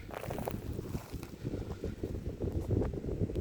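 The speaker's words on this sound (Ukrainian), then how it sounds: "Вітер мішає чи не мішає." Wind gusts across an open demonstration field of sunflower and sorghum, buffeting the microphone with a low, uneven rumble that swells and eases over a few seconds.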